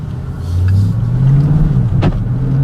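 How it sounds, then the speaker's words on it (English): A close, loud Porsche Panamera V8 engine rumbling low and steady, its pitch rising slightly as it revs, with a brief sharp click near the end. "that sound, the grumbly V8"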